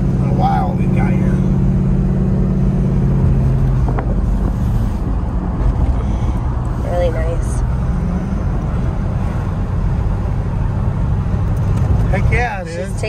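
A 1947 Ford Business Coupe cruising down a road, with steady low engine and road rumble plus wind noise throughout, while people talk inside the cabin over the drone.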